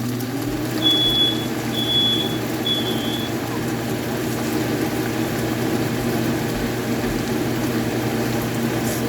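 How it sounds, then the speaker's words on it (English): Three short, high-pitched smoke alarm beeps in quick succession over a steady background hum, then only the hum continues. "Smoke alarm goes off"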